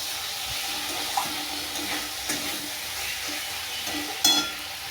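Potato, pointed gourd and duck egg curry masala fries in a pan, a quiet steady sizzle close by with a few light stirring clicks and scrapes, no talk.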